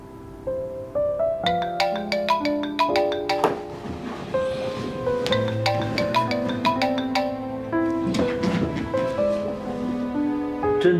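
A mobile phone ringtone sounds for an incoming evening call, a bright, chiming melodic tune of repeating plucked notes that plays continuously for about eleven seconds at moderate volume with no talking.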